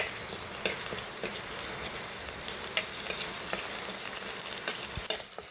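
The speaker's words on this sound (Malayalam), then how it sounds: "ശാല എണ്ണ ഒഴിക്കുന്നത് ഇച്ചിരി ഇഞ്ചിയും വെളുത്തുള്ളിയൊക്കെ വഴറ്റുന്നത്" Crushed ginger-garlic paste sautés in hot oil for a fish-head curry, giving a dense, even sizzle with intermittent crackles and stirring scrapes, near and continuous.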